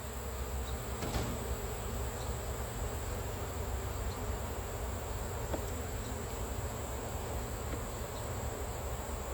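Honeybees swarm around an opened hive during a honey harvest, a dense, steady buzzing hum close by that fills the whole stretch, with occasional louder passes of individual bees and no speech.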